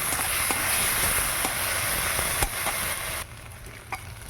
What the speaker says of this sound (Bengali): এবার দিয়ে দেবো ভেজে রাখা পটলগুলো মশলা দিয়ে কষে নেবো